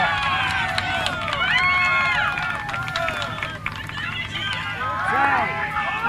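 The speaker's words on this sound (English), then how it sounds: "A little loud cheering." Crowd cheering drifts over from a neighbouring youth baseball game, a steady distant roar of voices with shouts rising and falling under nearby chatter.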